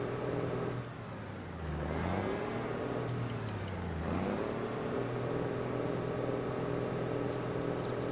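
Tractor engine revving in the Farming Simulator 25 game, a steady mid-pitched drone that dips in pitch twice and swells back up, loud and continuous throughout with no talk.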